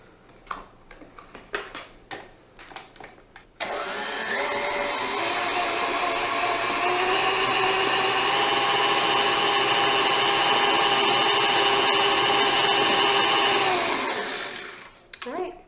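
A few clattering knocks come first, then an electric mixer whirs loudly and steadily for about eleven seconds through cinnamon roll coffee cake batter, its motor whine holding even before cutting off.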